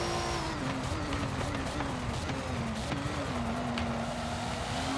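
During wheel spin in Forza Motorsport 7, a race car engine holds a loud, steady, high drone that wavers slightly in pitch, with faint tire noise beneath it.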